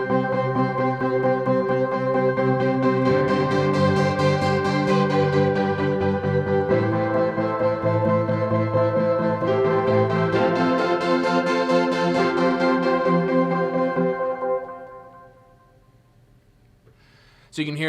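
Layered synth keyboard patches with delay and reverb, rich sustained chords swelling and shifting in two waves before fading into a quiet trail, then a brief sound at the very end.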